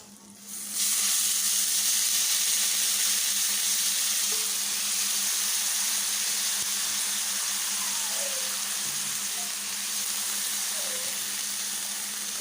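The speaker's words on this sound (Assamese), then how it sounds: "এতিয়া মই কাটি লোৱা পাতিলাও বাকলিখিনি তেলত পেলাই দিম।" Chopped bottle gourd peels fry in hot oil in a pan, giving a steady, loud sizzling hiss that starts abruptly and continues evenly, with a few faint clinks and a distant voice in the background.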